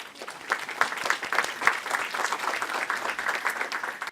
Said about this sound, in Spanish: Un aplauso, por favor, para darle la bienvenida.